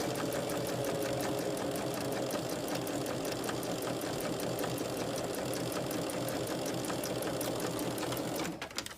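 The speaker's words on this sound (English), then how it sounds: "My needle is going to be off of the line. The edge of the foot, or wherever that 1/4 inch is going to be what I am using" A sewing machine stitches quilt pieces along a quarter-inch line. It runs as a fast, steady mechanical whir with rapid needle clatter, close and loud, and stops abruptly near the end with no talking.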